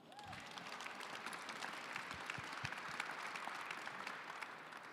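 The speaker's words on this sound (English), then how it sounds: "Y'all can clap for that." A school audience claps together at a talk, a dense, moderately loud spread of applause that stays fairly steady, with a few sharper claps standing out.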